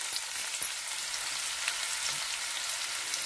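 Onions frying in a pan for ridge gourd palya, a steady close hiss of sizzling oil that runs unbroken throughout, with a soft clack or two of stirring and no voices.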